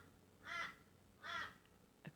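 A crow caws twice, spaced about three-quarters of a second apart, fairly faint and distant in a quiet outdoor setting, with a brief soft sound after the second call.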